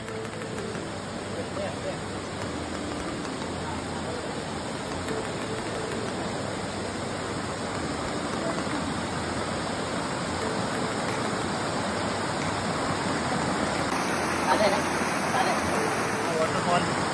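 Water from a half-flowing jungle waterfall at Jamge in Kokan rushes steadily as a broad, even roar nearby, continuous throughout and slightly louder near the end.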